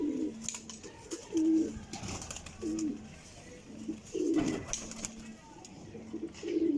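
A young Pathiya pigeon coos repeatedly, throaty low burbles coming every second or so, close by, while someone talks over them in a quiet indoor setting.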